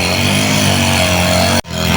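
A grass cutter runs close by in a cemetery, its engine a loud, continuous buzzing drone that holds steady for nearly two seconds before a sudden brief cutout, then resumes.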